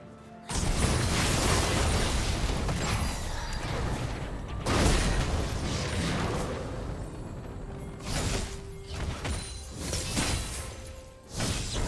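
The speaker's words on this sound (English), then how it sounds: "Blue Team's turret has been destroyed." League of Legends turret being destroyed, a loud crunching burst with shattering debris and whooshing effects amid busy battle noise, followed by a few sharper impacts and pops.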